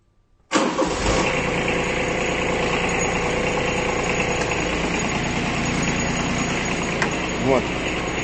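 A Kubota Aste A14 Japanese diesel mini tractor with a rotary tiller cranks and catches at once, then settles into a loud, steady, close-up idle with a constant mechanical rattle for the rest of the run.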